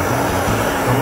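A propane torch roars steadily while heating a Jeep's dull plastic exterior trim, a loud, close, continuous rushing hiss with no break.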